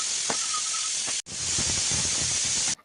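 Loud, steady hiss of steam jetting from a pressure cooker cooking chicken with masala, briefly cutting out before resuming at full force.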